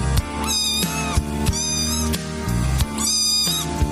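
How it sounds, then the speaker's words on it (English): Several cat meows sound clearly against a steady musical bed with a low rhythmic backing, with three distinct drawn-out calls spread across the stretch. "You can even bring your cat."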